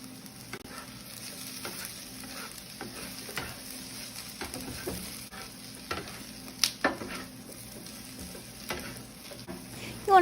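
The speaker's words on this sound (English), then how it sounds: "Did you guys hear that sizzle?" Gnocchi and vegetables sizzle on a Blackstone griddle in a Tex-Mex dish. The sizzle is a soft, steady background hiss broken by occasional sharp scrapes and clacks of a spatula tossing the food, and no one speaks.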